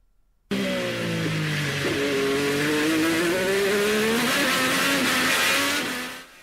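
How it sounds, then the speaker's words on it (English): A Formula One car engine revs hard and climbs through rapid gear shifts, each upshift dropping the pitch before it rises again, loud and continuous for about six seconds, played back as a recording. "this is a really bad example of a Formula One car, quickly changing with lots of gear shifting"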